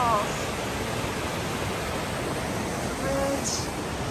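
White Waterfalls on the Foothills Trail roaring steadily nearby, a dense, constant rush of falling water, with a faint chirp or voice briefly poking through.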